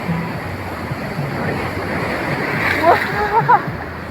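Sea water surges in on a Goa beach, below the rocks and through a gap, a broad rushing wash with wind noise and a few brief splashes near the end, and no clear voice over it.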